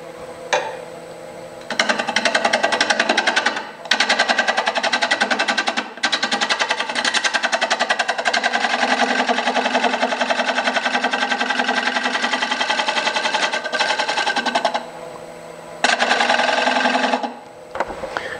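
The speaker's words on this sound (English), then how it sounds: "So we're going to true the rim up here. I'm going to just scrape that to begin with." Wood lathe spinning a rough-turned elm bowl at about 700 RPM while a tool scrapes the rim to true it, giving a steady, loud, dense whirring scrape that runs almost unbroken, with brief lulls near the start and end.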